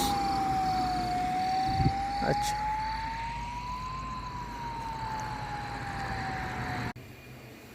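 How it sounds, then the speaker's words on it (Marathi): An ambulance siren wails steadily with a slow rising and falling pitch, fairly loud, then cuts off abruptly near the end; a brief voice is heard. "ॲम्ब्युलन्स"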